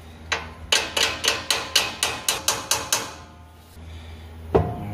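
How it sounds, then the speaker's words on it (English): Bronze hinges on a lathe tailstock are tapped to seat them. About a dozen sharp metallic taps come in a steady, even rhythm, followed by a pause and one last knock. "tap on the end of these bronze hinges to make sure they're pushed in enough"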